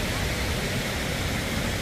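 Rushing river water gives a short, steady, broadband roar, close and constant with no breaks.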